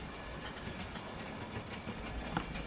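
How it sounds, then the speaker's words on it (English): A Hornby Peckett W4 model locomotive, number 614 centenary edition, runs around a model railway layout, producing a continuous close whirring rumble with faint rhythmic rail clicks. "And there goes my locomotive going round."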